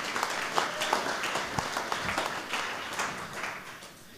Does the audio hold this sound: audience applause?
yes